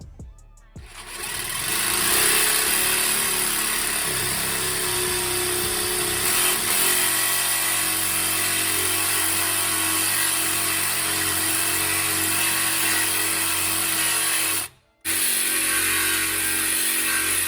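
A power tool saws through the exhaust muffler of a BMW 335i, a loud, steady, droning whine up close. It runs almost continuously, cuts out abruptly for a moment near the end, then resumes.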